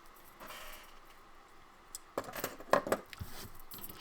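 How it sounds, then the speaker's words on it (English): Several crisp snips of scissors cutting paper, a quick cluster of sharp clicks after a quiet stretch, close by. "Let's just trim off that little bitty bit where Brooke went crazy with the scissors"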